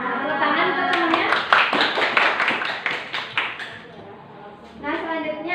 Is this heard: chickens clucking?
no